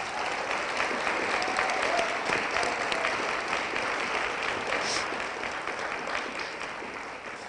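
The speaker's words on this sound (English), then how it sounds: "Can we have some applause for Sally Alice?" A seated audience at a talk in Albuquerque, New Mexico gives Sally Alice Thompson steady, dense applause that holds at an even level for several seconds, then eases slightly toward the end.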